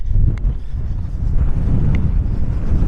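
Strong wind buffeting the microphone on a ridge line trail at Red Rocks Canyon, California, a loud continuous low roar with gusty swells throughout, no talk.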